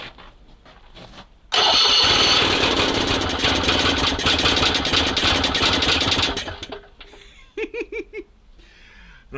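SMZ motorized invalid carriage engine cranking and bursting into life in frosty weather, then running loud and steady with a rough buzzing note for several seconds before cutting back to sputtering, uneven pulses.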